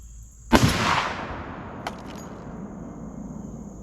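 A single sharp gunshot at a cabbage target on an outdoor range, loud and close, followed by a trailing echo and a fainter distant pop a moment later.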